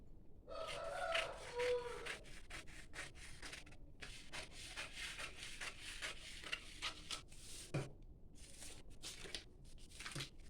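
Fabric for a 53-inch blouse being cut with scissors, giving steady close rubbing and snipping strokes that run through most of the stretch with brief pauses, no voices.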